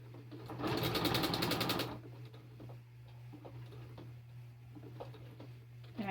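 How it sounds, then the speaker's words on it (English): A sewing machine stitches along the edge of a strip of Velcro on a pin cushion, a fast close mechanical rattle lasting about a second, then it quiets to faint ticking over a steady low hum. "I'm just sewing right along the edge of the Velcro"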